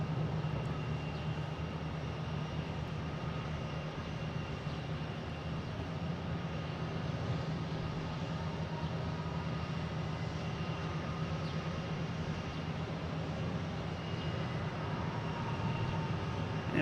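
A Delta Embraer E175 regional jet arrives from LaGuardia at Boston Logan, its engines giving a steady, distant low roar with a broad rumble that holds at an even level throughout, with no voices.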